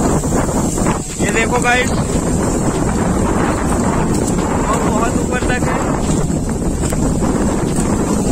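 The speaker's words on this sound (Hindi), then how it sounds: "बहुत ही तेज हवा चल रही है" Strong, gusty wind roars steadily across the microphone during a tornado-like storm outdoors, a loud continuous rush with leaves blowing, while someone talks over it.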